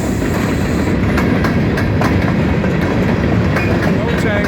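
A freight train of boxcars and hoppers rolls past close by, a steady loud rumble with rhythmic wheel clicks over rail joints throughout.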